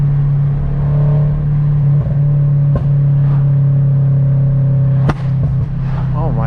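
A car engine drones steadily and loud during a cruise alongside a Subaru BRZ, a low sustained roar with brief sharp pops and rev spikes, while voices talk over it.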